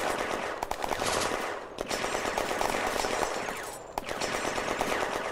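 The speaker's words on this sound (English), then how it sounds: "The tanks put down a high volume of fire." Sustained automatic fire from tanks in the WWII tactics game Firefight, with dense rattling bursts and a few sharper, heavier cracks cutting through, loud and continuous without any talk.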